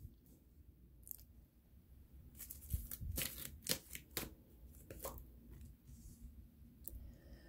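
Tarot cards are shuffled close by for a reading, with a series of soft irregular riffles and flicks against a quiet background and no talk.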